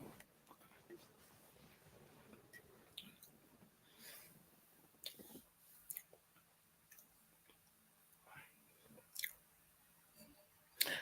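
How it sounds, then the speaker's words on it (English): Crisps being munched close to the microphone, scattered crunches and wet chewing clicks spread across about eleven seconds, with sharper bites near the middle and end against a quiet room. "I'm munching on crisps"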